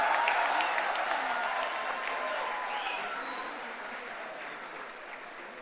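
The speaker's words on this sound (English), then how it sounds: "A big round of applause to all the graduating students." A large audience at a university convocation ceremony in Mumbai applauds the graduating students. The dense, sustained clapping starts strong and gradually tapers off as it fades.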